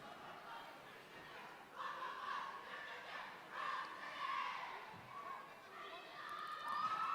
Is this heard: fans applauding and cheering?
yes